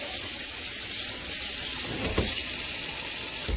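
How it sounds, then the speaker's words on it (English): Pasta being drained and rinsed under a running kitchen tap, a steady broadband rush of water over the sink that holds at an even level throughout, with no talk. "Drain and rinse."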